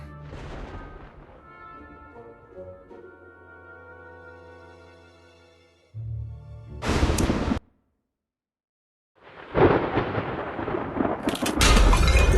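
Thunder rumbles and cracks through a stormy night in a video game, with heavy bursts after a quieter tonal stretch, then a short silence before another loud, sustained roll.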